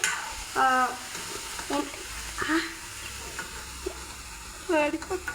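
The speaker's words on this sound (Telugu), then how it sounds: "చాలా జాగ్రత్తగా ఆనియన్స్ ఉడికేంత వరకు మనం కలుపుతూ ఉండాలి." Onions fry in a pan under steady stirring, a constant close sizzle with the occasional scrape of the spoon. A voice talks over it in short bursts.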